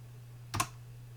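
A single brief keyboard keystroke burst while entering a command on a computer set up as a VPS for crypto mining, sharp and close over a steady low electrical hum.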